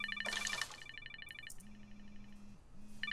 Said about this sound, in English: Why is Reed calling you?